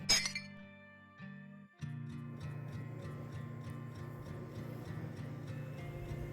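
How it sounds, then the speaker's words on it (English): A drinking glass slips from a hand at breakfast and hits the floor: a bright, sharp clink of glass at the start, then a brief lull before a steady, busy indoor background with faint ticking continues. "glass fell from his hand crashed into floor"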